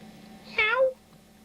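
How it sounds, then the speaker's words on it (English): A cat named Susie gives a single clear meow, a short rising-then-falling call lasting under half a second, close and distinct against a quiet room. "She's a pretty sweet cat."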